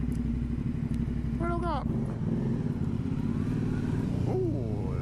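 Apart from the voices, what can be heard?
Aprilia Dorsoduro 900 motorcycle engine in car park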